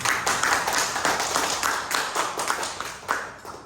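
Students in a classroom give a round of applause after a group presentation, steady overlapping hand claps of moderate loudness with a few sharper accents, heard without talk.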